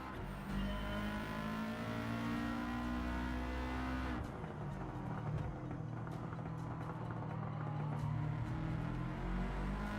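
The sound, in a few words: Subaru WRX STI engine racing in Gran Turismo 7 video game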